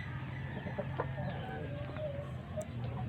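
Soft Ayam Cemani hen clucks and short fowl calls sound over a steady low background hum, fairly close, with a few brief louder notes scattered throughout.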